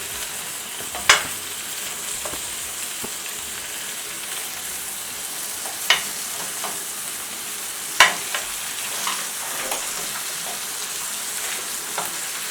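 Beef burger patties fry in a pan with a steady, dense sizzle, and a few sharp spits and pops stand out now and then, up close with no voices.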